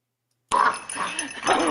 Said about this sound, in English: Good little dog right there.